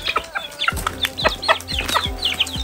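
Chickens on a Nepali farm cluck repeatedly at close range, short rising and falling calls from several birds overlapping in a busy, continuous stream with no talking.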